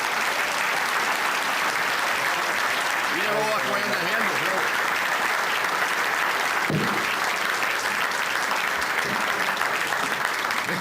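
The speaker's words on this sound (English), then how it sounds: "how about a nice round of applause?" A crowd gives sustained, dense applause for the Illinois state treasurer, a loud, even wash of clapping that fills the whole stretch while someone speaks briefly over it.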